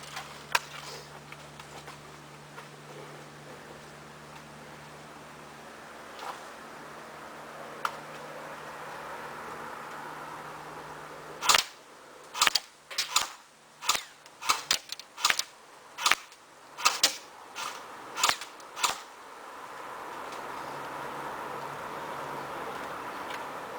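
Cybergun AK47 airsoft rifle rated at 1.4 joules, firing in semi-automatic: about a dozen sharp, separate shots in an uneven rhythm over steady background hiss, preceded by a long stretch of quiet handling.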